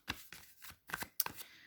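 A deck of tarot cards is shuffled by hand in a few quick riffling bursts, soft and close, with short pauses between them and no voices.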